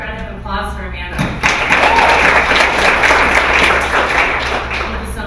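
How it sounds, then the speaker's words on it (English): After a speaker finishes at a skill session, an audience breaks into loud clapping about a second in, following a brief spoken line, and keeps applauding steadily to the end. "Applause for Amanda"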